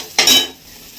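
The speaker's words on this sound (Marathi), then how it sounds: "फोडणी चांगली परतून द्यायची" A spoon scrapes through a hot spice tempering in a pan for a Marathi country chicken dish, a short loud stir with a burst of sizzle that fades into a low, steady frying hiss.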